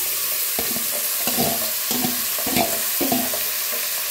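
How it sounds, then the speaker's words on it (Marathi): Spices sizzle and crackle in hot oil as a tempering for an aloo chole curry, while a spoon stirs the pan in several distinct scraping strokes. "आता तेलात छान असं भाजून घेऊया।"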